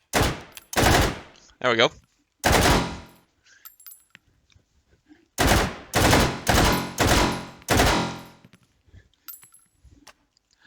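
Full-auto bursts from a VZ58 rifle in Hot Dogs, Horseshoes and Hand Grenades: loud, close, rapid strings of shots in several separate bursts with brief pauses and metallic clinks, someone speaking briefly between them.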